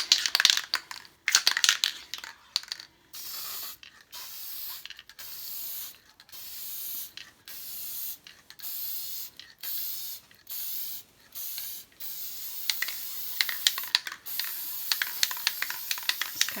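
Gloss varnish from an aerosol can is sprayed onto an acrylic pour painting in short, loud hissing bursts, roughly a dozen of them, with brief gaps between, close to the listener and with no talking.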